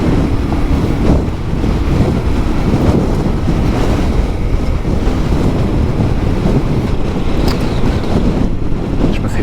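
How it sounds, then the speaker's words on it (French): Strong, constant wind buffets the microphone in a loud roar while riding a Yamaha Ténéré World Raid off-road, with a hint of rushing water beneath it. "Je me fais pousser par le vent."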